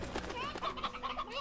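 Chickens in the Slime Rancher video game cluck and squawk in a busy, overlapping cluster, with wavering calls close by and steady game ambience beneath them throughout.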